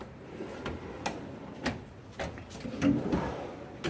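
A drawer on a Husky tool box at home slides open, with several soft clicks and sliding thumps spread over a few seconds, fairly quiet and close, with no talk.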